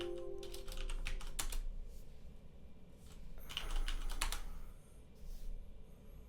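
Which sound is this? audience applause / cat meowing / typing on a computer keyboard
typing on a computer keyboard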